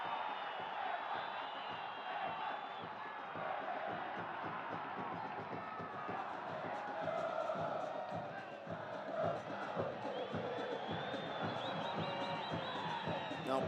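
Stadium crowd at a Concacaf League 2021 football match between Comunicaciones and Motagua in Guatemala, a dense roar of chanting and shouting that swells and holds steadily throughout, with a commentator's voice over the top.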